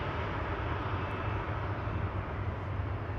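Steady broadband roar of an EasyJet jet airliner at Manchester Airport, a continuous engine rumble heavy in the low end, holding even and fairly loud throughout with no voices.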